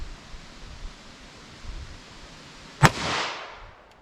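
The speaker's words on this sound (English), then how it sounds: "I don't want to jerk these shots." A single sharp, loud shot from a Smith & Wesson 610 revolver, fired single action outdoors with Hornady LEVERevolution ammunition. A rolling echo tail follows the shot over quiet background hiss.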